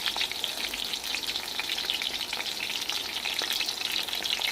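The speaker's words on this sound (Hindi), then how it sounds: "इस तरह आपने ये सारे बैंगन फ्राई कर लेने हैं।" Sliced brinjal (eggplant) sizzling and frying steadily in oil in a well-used non-stick kadai for a sour brinjal curry, a dense continuous crackle with no voices.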